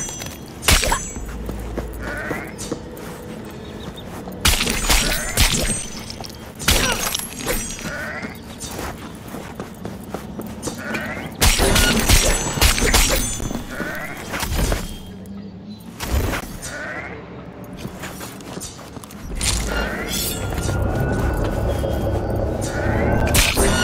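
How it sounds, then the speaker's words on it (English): Sheep bleating during combat in Cyberpunk 2077, several short bleats scattered among sharp hits and shattering game effects, loud and close, with no talking. "the next battle line is literally kill five sheep"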